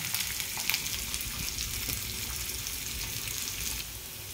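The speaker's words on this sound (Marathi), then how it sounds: "तर जो काही आपला कांदा आहे ना तो परतून घ्यायचा मस्त" Onion sautéing in a pan for besan pitla gives a steady, close sizzling crackle that runs evenly from start to finish, with a few brief louder pops near the beginning and no voices.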